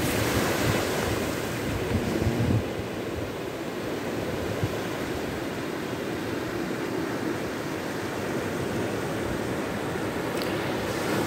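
Sea surf washes steadily onto the shore at sunrise, a continuous broad rush of breaking waves with some wind buffeting the microphone and no voices.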